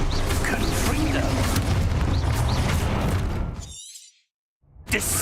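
A Confringo fire-blast spell from Hogwarts Legacy erupts in a dense, loud burst of crackling, shattering noise that fades to sudden silence before a short, sharp clap returns at the end.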